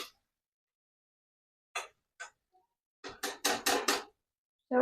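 A metal lid clanks onto a cooking pot in a home kitchen where prawns with potato and radish are cooking. A few light taps come first, then a quick cluster of sharp metallic rattles and knocks, close and fairly quiet.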